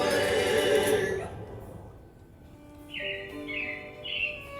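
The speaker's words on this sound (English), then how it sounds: "It looks like the Robins are getting ready to celebrate Valentine's Day today." Animatronic robins in Walt Disney's Carousel of Progress at Magic Kingdom chirp in three bright, evenly spaced bursts after a fading musical passage in the theater.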